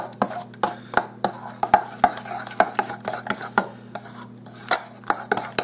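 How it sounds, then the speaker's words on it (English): Sharp, irregular taps of a utensil against a bowl while baking soda is stirred into a cup and a half of sour cream, close and loud with brief pauses. "I'm going to add a teaspoon of baking soda to it. I'm going to stir it up."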